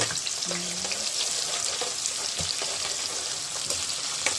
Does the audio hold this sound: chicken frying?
yes